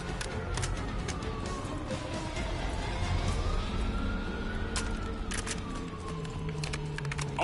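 Police sirens wail and rise and fall through a Black Ops 6 game scene, with sharp clicks and gunfire-like bursts breaking in over the steady noise of the siren.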